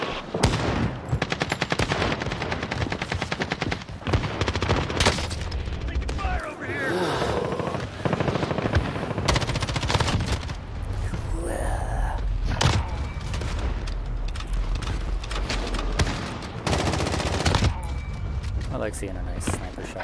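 An MP5 submachine gun fires in a video game war zone in dense rapid bursts of gunfire with booms, loud and continuous, while people talk over it.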